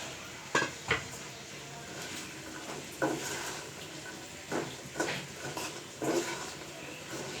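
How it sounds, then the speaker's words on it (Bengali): Boiled chickpeas stirred in a cooking pot, a spoon knocking and scraping against the metal in several separate clinks and clatters with short gaps between them, fairly close and with no voices. "তারপর নেড়েচেড়ে নেওয়া হচ্ছে।"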